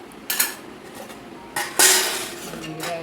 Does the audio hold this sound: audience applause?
no